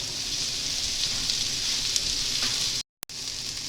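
Onions sautéing over high heat with red wine and balsamic vinegar in a pan: a steady, close, hissing sizzle that runs continuously, briefly cut out near the end.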